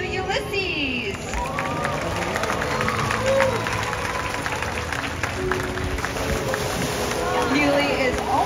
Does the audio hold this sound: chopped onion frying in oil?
no